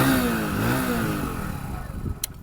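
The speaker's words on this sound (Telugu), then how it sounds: "ఇంజన్ ఆన్ చేస్తాను, ఒకసారి చూడండి" A Hero Splendor Plus XTEC 2.0 motorcycle engine starting up, a close brief whirr rising into a low idling putter that fades over a couple of seconds.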